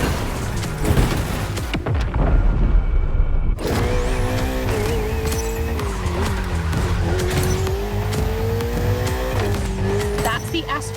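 A Ferrari 488 in The Crew Motorfest video game, driven hard: a loud, continuous engine roar that rises and falls with gear changes, with tire squeal and a brief rumbling impact early on.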